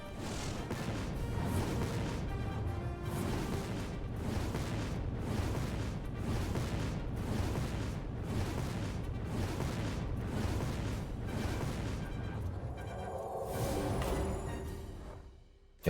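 Flame dart ability effects in the Hearthstone Mercenaries game play as a continuous roaring, crackling fiery barrage, loud and steady with rhythmic pulses, easing slightly near the end.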